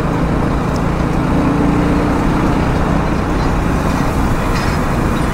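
A Vespa scooter ridden through busy road traffic near the Vashi bridge in Mumbai, a steady loud wash of engine and wind roar with passing vehicles and buses close by throughout.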